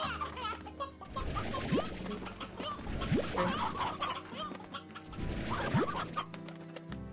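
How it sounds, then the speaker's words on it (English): Roosters and chickens cluck and squawk in the video game Slime Rancher, a busy layered flock over steady background music and ambience, with a few rising calls standing out. "Oh wow, so many roosters in here."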